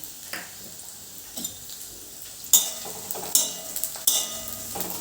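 Chopped onions and dried red chillies hitting a hot pan for urad dal, giving a low steady sizzle with several sharp clinks and stirring scrapes of a utensil against the pan, fairly close and with no talking.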